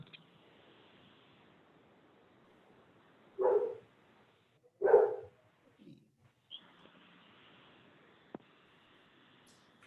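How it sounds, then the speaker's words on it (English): A dog in a home barks twice, a few seconds apart, followed by a softer yip, all against an otherwise quiet room. "you'll also hear some dogs barking."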